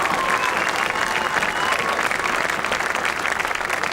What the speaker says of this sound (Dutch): Een daverend applaus, nogmaals, voor Jos Prop, de geweldige regisseur